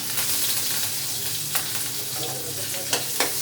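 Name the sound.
curry leaves, chilli and cumin sizzling in hot oil for tempering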